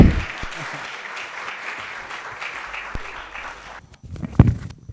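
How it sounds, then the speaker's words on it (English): Applause from an audience welcoming a speaker onto the stage at a school talk, a moderate wash of clapping that fades toward the end before a few louder, closer sounds break in. "please give him a big round of applause"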